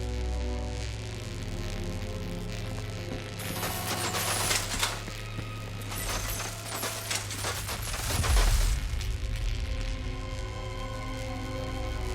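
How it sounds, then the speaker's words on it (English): Counterweight mechanism moving in Batman: Arkham Knight, a ratcheting, grinding clatter that rises in the middle and falls away, heard over a low steady hum. "Counterweights move further when I step on the pads."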